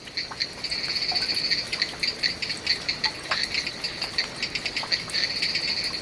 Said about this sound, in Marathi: आवाज येतोय तुम्हाला ही बेडकं ओरडतात